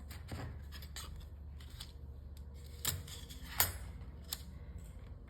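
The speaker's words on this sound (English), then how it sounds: "And then you cut this piece one time to make this." Scissors snip through a paper calendar piece in a few sharp, close cuts spread over a quiet tabletop background with a low steady hum.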